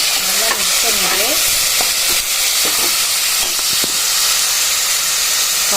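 Goat intestine curry fries loudly in a pan and is stirred, with a constant close sizzle and hiss and a few scraping, squeaky strokes of the spoon.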